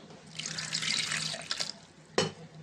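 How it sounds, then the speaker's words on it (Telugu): Water runs steadily from a tap into a glass for about two seconds, followed by a brief clink near the end, as it is added to a pressure cooker. "ఒక గ్లాస్ వాటర్ ఇద్దామండి"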